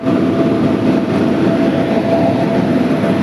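A train pulls into Mauli Ali station in Telangana, a steady loud rumble of rolling wheels and rail noise that fills the whole stretch with no break.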